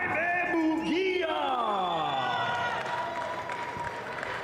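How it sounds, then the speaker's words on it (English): Crowd at a boxing press conference for Jaime Munguia, with cheering and applause around a loud bellowing yell and whoops, the cheer fading into sustained clapping. "Everybody's cheering for you. Todo el mundo te está aplaudiendo."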